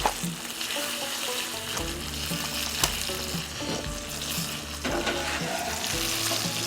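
Steady, loud sizzling of chicken frying in a hot pan on a high flame, with occasional crackles, pops and scraping as pieces are moved around.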